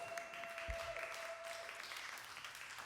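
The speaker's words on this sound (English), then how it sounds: "Give yourselves a round of applause." A live concert audience at Summer In The City, Waterford, breaks into applause, a faint, distant patter of clapping with a brief low thump.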